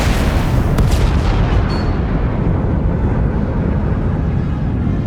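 Starship weapons fire in a space battle in Star Wars: The Old Republic, a dense continuous barrage of booming, rumbling blasts that stays loud throughout, with a sharp crack near the start and no voices.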